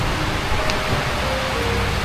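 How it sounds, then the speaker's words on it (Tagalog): Heavy rain pours steadily at night, a dense, loud wash of noise with no pauses, close and enveloping throughout. "Malakas na ng ulan."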